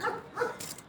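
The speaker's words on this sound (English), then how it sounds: "That's my neighbor's dog." A couple of quick, moderately distant dog barks, short and sharp, followed by a faint high yip.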